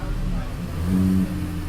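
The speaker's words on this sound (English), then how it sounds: "Let's give it a few revs." A 2025 Hyundai Elantra N Line engine idles, then revs up briefly to a higher pitch and drops back down, close by and steady.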